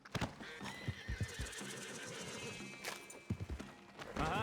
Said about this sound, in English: Old Father Time. My favorite horse.